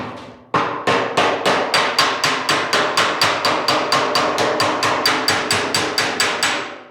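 Rapid, evenly spaced metallic hammer blows ring out against a steel dolly while planishing sheet metal warped by welding, about three strikes per second, loud and close, with no talking.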